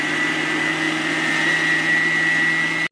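A kitchen mixer grinder runs steadily, blending apple pieces with water and a cup of sugar into juice, its motor whine loud, close and unbroken for the whole stretch before cutting off at the end.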